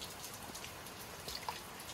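Rain falls over rice fields at night as a faint, soft patter of scattered drops, with a few slightly clearer drips near the end and no talk.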